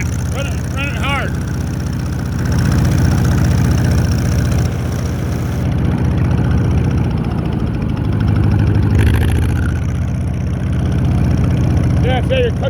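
An old Allis-Chalmers tractor engine chugs loudly and steadily nearby, its low rumble rising and falling slightly, while someone talks over it.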